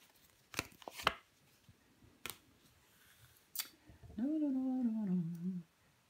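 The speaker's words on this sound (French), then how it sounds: "je vais recouvrir les cartes" Tarot cards being handled and laid over one another at a table: a few crisp, close slaps and snaps spaced irregularly, followed by a short sustained hummed vocal sound.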